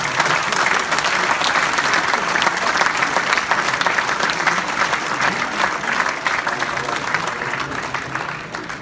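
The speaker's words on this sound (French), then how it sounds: "Et je voudrais qu'on les applaudisse, s'il vous plaît." Sustained applause from an audience at a Normandy regional tennis league general assembly, dense clapping that fills the room evenly at a steady level for several seconds.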